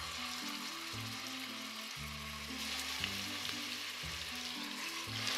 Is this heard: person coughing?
no